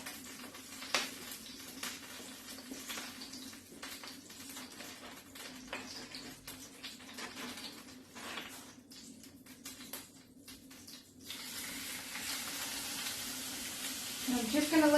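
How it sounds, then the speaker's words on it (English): Olive oil sizzles in a hot pan just before a steak goes in, giving a steady frying crackle throughout that grows louder and busier near the end, with faint kitchen clatter. "My olive oil is sizzling,"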